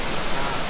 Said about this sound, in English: Guangxi water. Guangxi Waterfall.